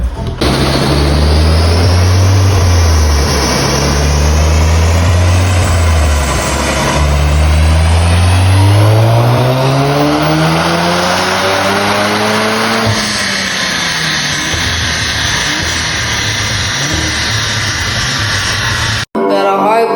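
A tuned 400 hp Golf Clubsport hatchback engine revs loudly close by, the pitch climbing and falling through several throttle blips before settling into a rough, throaty roar.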